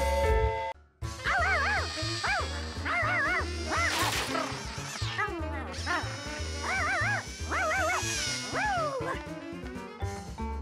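A cartoon dog in Curious George barks and yips repeatedly in quick bursts over a lively music score.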